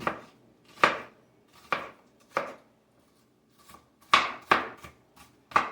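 A knife chops a regular hot onion finely on a board for guacamole, with about a dozen crisp, separate strikes in uneven bursts and short pauses between them, close and alone.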